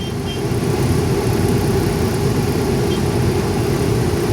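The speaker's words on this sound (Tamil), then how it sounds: "அதனால தான் இவ்வளோ டிராஃபிக் ஆகுது" Buses and other vehicles idle in heavy traffic outside Kilambakkam bus stand, a loud, continuous low engine rumble that stays steady throughout without speech.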